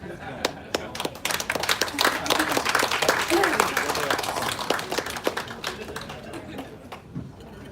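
Audience applause for John at the close of a lecture, a dense patter of clapping that swells and then thins out, with voices talking over it.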